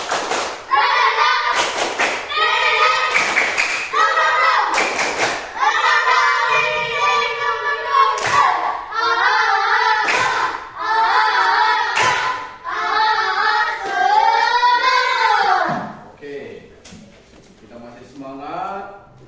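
Classroom clapping game with students and teacher clapping together in a steady rhythm, loud sharp claps punctuating a group chanting in unison nearby.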